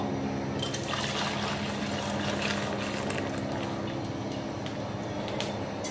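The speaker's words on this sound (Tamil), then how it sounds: "இப்போ சர்க்கரையை இதில் வடிகட்டி எடுத்துக்கிடுவோம்." Dissolved sugar syrup for Pongal sweets pours through a strainer into a pot, a steady close liquid trickle and splash running throughout with no talk.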